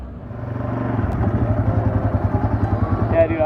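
A snowmobile engine drones steadily while riding over rough terrain at night in Canada, a near, pulsing mechanical rumble with rhythmic bumps and no talk.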